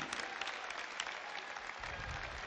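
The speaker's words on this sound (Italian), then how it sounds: "Un applauso!" Audience applause at an evening presentation of the Novara football club, steady dense clapping from a crowd throughout, fairly distant with no talk over it.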